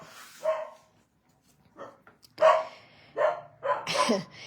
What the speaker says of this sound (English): it's definitely the dog next door that she's getting a little rambunctious about